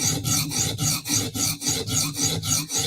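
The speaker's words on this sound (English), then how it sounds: "We're going to see how much this coarse stone takes it away." Knife edge drawn over a coarse sharpening stone in quick, regular rasping strokes, about three per second, close up and even, with no talk.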